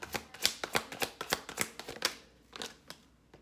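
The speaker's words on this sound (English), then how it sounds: "One more good shuffle" A deck of tarot cards gets a brisk shuffle nearby, a rapid run of sharp papery snaps that slows and trails off near the end.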